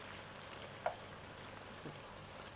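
Soft, steady sizzling of meat and onion frying in a pot, faint and continuous, with a single small clink partway through.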